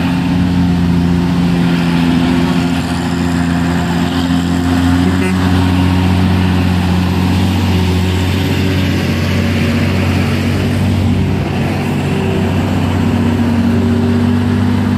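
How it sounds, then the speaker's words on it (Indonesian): A convoy of heavy trucks, among them Hino FM and Hino 500 models, grinds uphill on a road, with several engines droning steadily and close by as they climb, and a voice talks over the noise. "Ini ramai truk nanjak lagi, berkonvoy."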